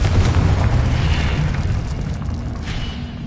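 A Confringo fire spell exploding in the Hogwarts Legacy video game, a loud deep boom that rumbles and fades slowly over a few seconds, with no speech.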